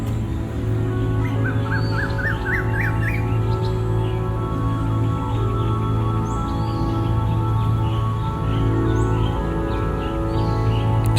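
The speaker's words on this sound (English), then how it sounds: "Some birds, though, are not residents at all, like this Hainan blue flycatcher." A Hainan blue flycatcher gives a brief rising series of thin whistled notes early on, fairly faint over a loud steady hum and background birdsong in an urban floating garden in Bangkok.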